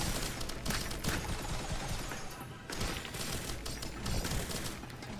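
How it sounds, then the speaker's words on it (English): Missiles fired over and over in a video game, a dense unbroken barrage of launch whooshes and explosive bursts at steady loudness, dipping briefly in the middle, with no talking. "I can pretty much just stand here and shoot missiles"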